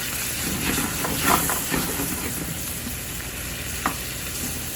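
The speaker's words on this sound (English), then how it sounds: "Just kind of like cover the rice with the stock. You don't want to add too much. and keep it moving." Stock poured over risotto rice in a hot pan and stirred, giving a continuous bubbling sizzle and hiss with faint scraping of the spoon and one small clink near the end.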